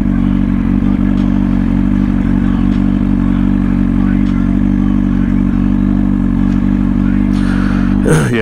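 A 1000cc superbike engine drones at a steady loud pitch while riding on a morning cruise, with wind rush and a burst of revving or clatter near the end.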